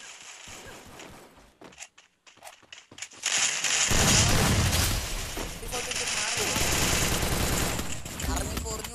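Gunfire in a ranked squad battle game: scattered single shots at first, then a dense continuous burst of rapid automatic fire over loud game noise, with players talking throughout.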